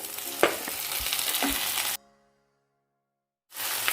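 Onions, with tomatoes, fry in a pan for paneer masala, a close, steady sizzle with stirring clinks that cuts to silence midway, then resumes.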